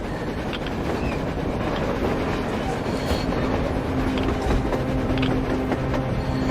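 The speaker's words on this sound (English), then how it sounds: "A train! A damn train on the surface!" A train rumbles past in the video game Metro Exodus, a steady loud rolling roar with rail clatter filling the whole stretch, while faint voices speak underneath.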